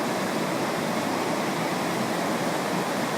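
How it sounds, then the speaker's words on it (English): Loud forest waterfalls roaring in a constant, unbroken broadband rush of falling water that holds at an even level throughout, with no voices. "The falls in the forest here. They're loud."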